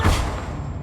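A Bombarda spell blast in the video game Hogwarts Legacy, a single short, deep booming burst that quickly decays.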